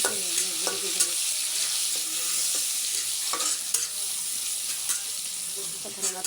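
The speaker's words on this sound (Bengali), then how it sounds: "এখন আমি কাঁচকি শুটকিগুলো সাথে ভেজে নিচ্ছি।" Dried kachki fish frying with browned onions in a pan, a steady bright sizzle broken by repeated scrapes and clinks of a stirring spoon, close and continuous with no talking.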